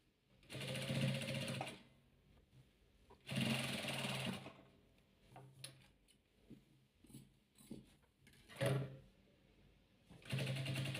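An electric sewing machine stitching patchwork quilt pieces runs in several loud bursts of rapid, even mechanical whirring, each a second or two long, separated by quieter pauses with faint handling clicks.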